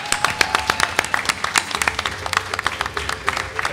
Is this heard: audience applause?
yes